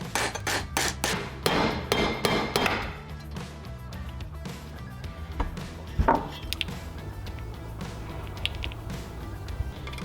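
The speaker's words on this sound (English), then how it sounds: "The easiest way to remove the governor gear is use a punch and tap it out." A punch is tapped with a hammer to drive the governor gear out of a Wildcat 223cc small engine block, giving a quick run of close, sharp metallic knocks, then sparser scattered taps and handling clatter.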